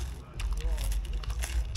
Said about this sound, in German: Genauso wie das Geräusch von diesem Baguette.